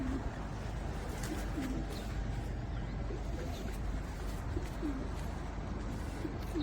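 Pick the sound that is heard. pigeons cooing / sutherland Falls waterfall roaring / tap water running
pigeons cooing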